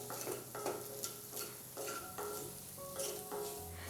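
Beaten eggs with pepper and salt being stirred and frying in a pan, a steady sizzle broken by repeated scraping strokes of the spoon every half second or so, close and fairly quiet, with no voices.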